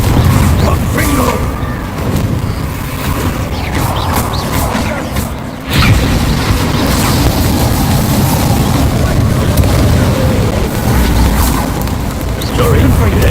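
Confringo blasting spells exploding in Hogwarts Legacy: loud, continuous booming blasts and rumbling with a brief dip midway, while voices talk throughout.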